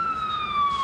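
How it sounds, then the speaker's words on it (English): An ambulance siren wails steadily on a Puerto Rico street near Locust Street, a single continuous sliding tone that carries clearly across the whole moment without interruption. "where that siren is, the ambulance, you could see it all the way down there"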